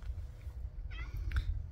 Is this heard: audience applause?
no